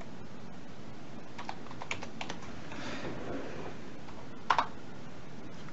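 Scattered keystrokes on an ordinary computer keyboard connected to an Android smartphone, a few soft clicks spread out over a low background hiss, ending with a sharper double tap.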